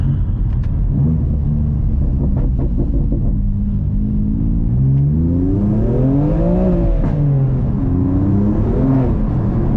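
A BMW F87 M2 Competition engine rumbles loudly while driving, rising and falling in pitch as it revs up through the gears and settles back.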